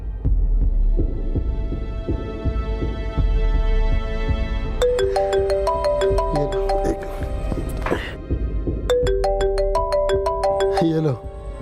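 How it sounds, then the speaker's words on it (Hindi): A mobile phone ringtone plays as a loud melodic electronic tune in two bursts over a steady low hum, in a drama scene. "ये लो, आ गया फोन।"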